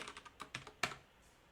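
Quiet bursts of typing on a computer keyboard, several light key clicks in an irregular run over about a second, close but faint, with no speech.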